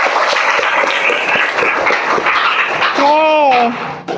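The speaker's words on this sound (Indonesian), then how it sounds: "Tepuk tangan dong buat kita semua" A classroom of students claps together in a dense burst of applause, with a voice calling out over the clapping near the end before it stops.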